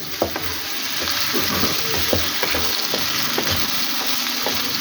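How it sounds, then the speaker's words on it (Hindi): Potatoes fry in a pan for an aloo anday dish, a steady close sizzle broken by repeated scraping and clattering strokes as they are stirred. "आलू को, पोटैटो को हमने इसमें डाल देना है और इसी के साथ इसकी बनाई कर लेनी है"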